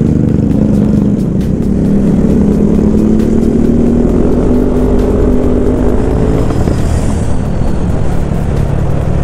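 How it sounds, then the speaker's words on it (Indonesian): Loud, continuous engine drone of a group of ten motorcycles and scooters riding together, with droning and shifting pitches from several bikes close by. "Rombongan total 10 motor."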